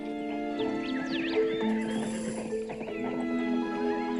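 Horses whinny and neigh repeatedly over a steady clatter of hooves, close and continuous throughout.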